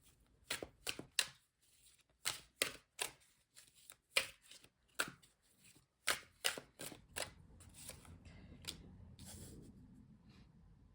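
Tarot cards are shuffled and slapped down in a run of crisp, close papery snaps with irregular pauses, then soft rustling handling toward the end, quiet and without talk.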